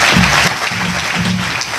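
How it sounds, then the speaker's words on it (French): Short burst of dense audience applause greeting a speaker at a mock trial event, continuous clapping throughout with a faint voice beneath. "Des applaudissements pour Ben Kalamo"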